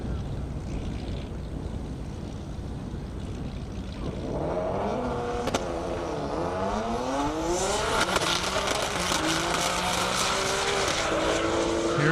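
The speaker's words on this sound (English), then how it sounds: "Here comes Patrick Kennedy and the English Racing GTR. Looks like a good pass." A GTR drag car from English Racing roars down a half-mile airport drag strip. It is loud and builds up as it nears, and it climbs through its gears with a strong rising engine whine.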